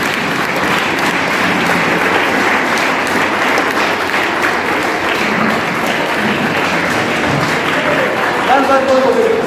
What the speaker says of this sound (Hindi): पहले आप अपने लिए ताली बजा लो,